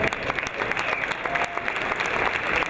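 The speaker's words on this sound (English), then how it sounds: "Give a round of applause." An audience at the Global Village opening ceremony keeps up a steady stretch of applause, a dense patter of many hands clapping at moderate distance.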